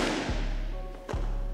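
Two heavy, close thuds land on a mat as a body is thrown with an Osoto Gari in no-gi judo, the first near the start and a louder one about a second later.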